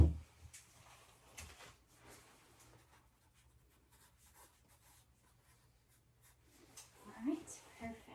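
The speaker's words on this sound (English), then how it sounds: "I am just going to write your vital signs down." A pen scratches across paper while vital signs are written down during a gynecology exam, soft close scribbling strokes that are faint and intimate, with a brief murmured voice at the start and end.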